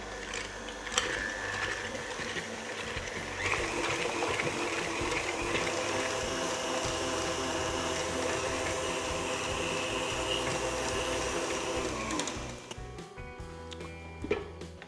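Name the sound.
electric mixer whisking cream with praline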